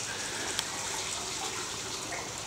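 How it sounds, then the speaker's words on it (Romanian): River water flowing past a fly-fishing spot, a steady, close rushing wash with small splashes and one brief sharp tick early on. "Curge apa, curentă de pe stânga."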